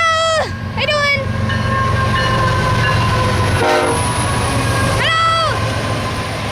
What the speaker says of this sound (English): 4 locomotives are leading this train.